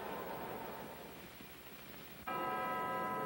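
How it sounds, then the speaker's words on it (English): A boxing ring bell ends round nine of a heavyweight bout at the Cleveland Arena, one sharp ringing strike cutting in over crowd murmur and sustaining to the end. "There's the bell."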